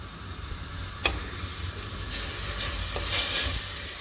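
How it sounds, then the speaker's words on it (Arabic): Onions and peppers with two vegetable stock cubes sauté in olive oil in a pan for an aubergine parmigiana, giving a soft steady sizzle with a couple of sharp stirring clinks, close and without talk. "هنزل على طول بالبصل والفلفل اللي معايا ومكعبين مرقه الخضار، هسيبهم بس يتشوحوا مع بعض شويه"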